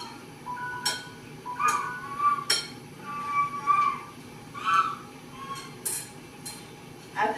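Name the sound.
spoon stirring cinnamon into apples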